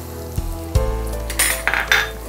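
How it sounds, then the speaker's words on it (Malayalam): Halved shallots frying in a pan with ginger, garlic and green chilli for a Kerala prawn curry: a few utensil knocks against the pan, then bursts of bright crackling sizzle as the shallots hit the oil. "ഇനി നമ്മൾ കൊച്ചുള്ളി, കൊച്ചുള്ളി ഓരോന്നും 2 ആയിട്ട് മുറിച്ചത്, അതും ചേർക്കുന്നു."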